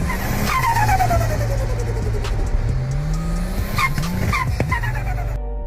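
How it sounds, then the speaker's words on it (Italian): A turbocharged car revs hard with turbo flutter, a rapid chattering stutter as the throttle lifts, mixed with rising and falling engine pitch and brief tire-squeal-like whines, loud and close with no talking. "Per chi non l'avesse capito, sto parlando dello stu-tu-tu-tu."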